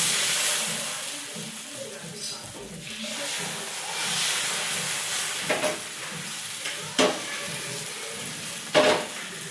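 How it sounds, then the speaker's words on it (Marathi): Thin ghavane rice batter hits a hot pan and sizzles, a steady broadband hiss lasting throughout with a few sharp clinks of utensils late on; close and moderately loud, no talk. "तर आता मी इकडे घावणे टाकून घेते."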